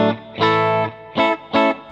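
A clean electric guitar played through a tube amp with no reverb at low volume: a sustained chord ringing out, then two short strummed chords in quick succession, bright and clear.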